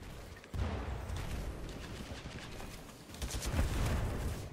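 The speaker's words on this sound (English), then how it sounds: "that SMR is tearing me up." SMR rifle gunfire in Titanfall 2 multiplayer, a dense sustained rattle of rapid shots that starts abruptly and continues without pause, loud and busy throughout.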